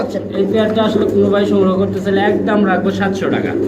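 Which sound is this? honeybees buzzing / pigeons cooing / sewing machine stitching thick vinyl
pigeons cooing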